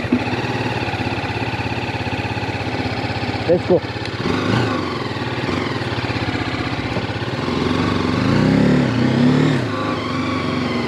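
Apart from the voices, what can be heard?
TVS Apache RTR 310 motorcycle engine starting and riding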